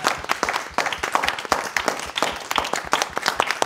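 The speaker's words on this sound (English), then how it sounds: "give a round of applause to yourselves for coming today" A conference audience gives a round of applause, a fairly small crowd clapping in distinct, uneven claps that stay close and lively for several seconds with no talking.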